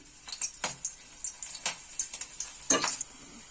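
Green chilies sizzle and crackle in hot oil, with sharp spattering bursts rising over a low frying hiss, close up and without speech.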